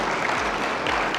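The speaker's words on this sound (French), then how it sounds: "Je voudrais qu'on puisse l'ovationner, l'applaudir." Steady, dense applause fills a hall at a service handover ceremony of the OAPI board of directors in Brazzaville, a continuous wash of clapping with no voices.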